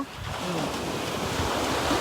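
Sea waves wash onto a seaside shore in a continuous, moderately loud surf roar. Wind buffets the microphone throughout, with no clear talk over it.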